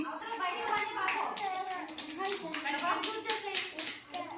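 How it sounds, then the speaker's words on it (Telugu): Children at an anganwadi Children's Day games contest clap their hands in quick, uneven bursts while kids' voices and chatter carry over and between the claps, fairly close and lively. "క్లాప్స్ కొట్టండి"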